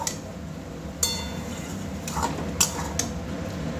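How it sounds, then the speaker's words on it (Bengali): Vegetables for a cauliflower-stem chorchori being stirred in a pressure cooker pan, a few sharp metallic clinks and scrapes of the spoon against the pot over a low steady background, no talk. "প্রেশারের মধ্যে সবজিটা খুব ভালোভাবে নাড়াচাড়া করে নেব"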